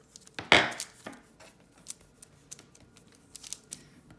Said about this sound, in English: So just trim very small slithers off there, just a millimetre or so thick